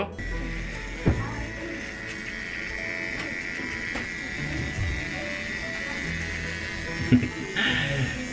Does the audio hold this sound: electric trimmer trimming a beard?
yes